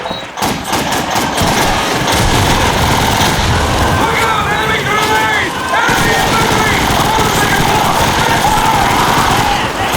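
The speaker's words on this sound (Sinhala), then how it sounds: "දැන් බෝම්බයක් දාලා" Rapid gunfire and a bomb blast in Call of Duty gameplay, loud bursts of shots and heavy booms crowding together, with rattling mechanical noise and talk over them.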